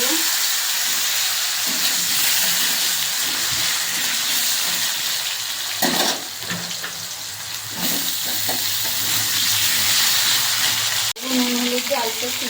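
Loud, steady hiss of cumin seeds crackling in hot oil in a kadai fills the scene, with occasional clatters of a utensil against the pan.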